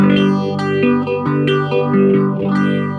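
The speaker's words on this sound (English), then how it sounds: "Phasers kind of, I think of in the middle of chorus and flanger, all similar sounds." Sustained distorted guitar chords with a sweeping, swirling phase effect that rises and falls in slow, repeating whooshes.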